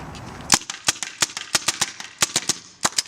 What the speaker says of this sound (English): So let's go ahead and shoot this and see what kind of results we get.